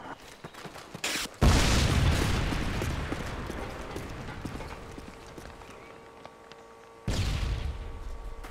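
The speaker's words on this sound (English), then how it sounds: "Friendly Predator missile inbound." A Predator missile explodes in Call of Duty: Modern Warfare 2, a loud booming blast that rumbles and slowly fades, followed by a second heavy impact, with scattered gunfire clicks before it.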